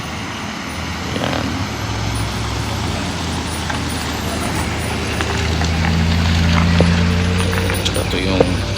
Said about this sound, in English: may school bus dito.